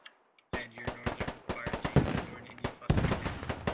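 Gunfire in the Squad military shooter game: sharp, close shots cracking in irregular bursts and clusters over a few seconds, with echoing tails between them and a louder volley near the end.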